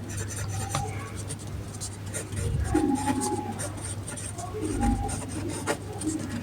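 Pen strokes scratch and rub steadily as a maths property is written out for a Class 9 lesson, with soft raspy strokes running on beneath a speaking voice.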